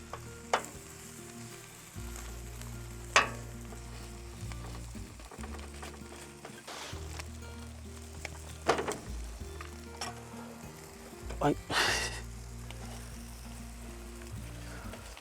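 Bread slices frying in butter in a pan give a steady sizzle at moderate level, with occasional scrapes and clinks from turning the slices, and no voices.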